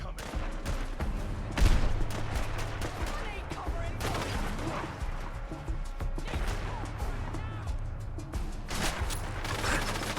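Gunfire in the video game Fallout London rattles in rapid volleys and scattered shots, dense and continuous over game ambience, with occasional voices in the background.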